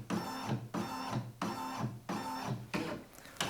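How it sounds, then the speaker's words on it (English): A Brother Innovis embroidery machine with an upgrade kit drives its frame across the fabric for a scan, giving five repeated mechanical bursts of whirring and buzzing motor movement, each lasting about half a second, close and steady. "It says it's going to move the frame around, so we press OK. And the machine will now scan"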